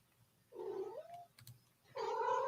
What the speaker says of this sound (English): No cats allowed on my stream, Shelby.